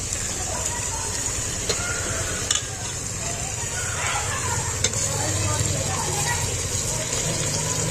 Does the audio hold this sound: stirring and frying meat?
yes